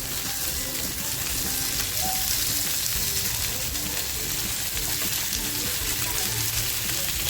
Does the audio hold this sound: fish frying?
yes